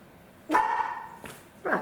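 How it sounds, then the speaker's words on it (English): A dog barks indoors in a home setting: two short, fairly close barks about a second apart, with no talking. "that's my dog"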